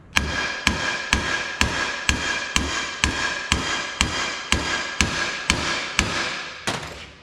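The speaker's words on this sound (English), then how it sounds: "Sit it on top of our socket again and tap away." A hammer taps steadily on a socket to seat a Holden Torana tail shaft bearing cap: about a dozen evenly spaced metallic strikes, close and loud, ringing briefly after each blow, with no talking.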